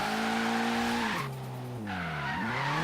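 Tire squeal from a drifting AWD car in the racing game Forza Horizon 3, a loud sustained screech over engine drone that dips and shifts pitch midway as the car transitions, continuous throughout.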